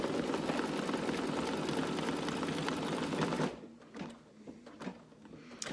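Embroidery machine stitching a thick top-stitched outline on a mask: fast, steady mechanical whirring rattle that stops abruptly partway through, followed by faint clicks and handling noises.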